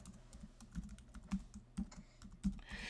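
Typing on a computer keyboard, faint irregular key taps with a few louder thumps, soft and close, over a low background hum with no talking.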